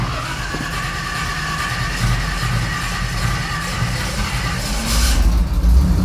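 A Pontiac Firebird, bought at auction and hard to start after cooling, rumbles at idle and then revs louder toward the end, close by with no talking.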